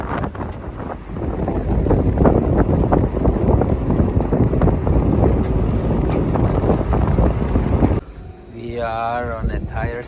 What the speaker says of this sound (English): And constant wind.